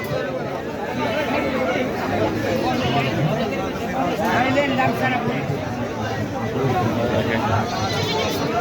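Goats of various breeds, including Jamunapari, bleat repeatedly at the Baneshwar goat market amid a busy crowd. Overlapping calls rise and fall while people chatter and talk throughout.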